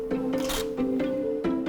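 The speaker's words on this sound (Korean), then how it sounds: "카메라 셔터가 빨라집니다" A camera shutter fires in quick, irregular bursts of about seven sharp clicks while a photographer shoots a craftsman at work, over a steady low hum.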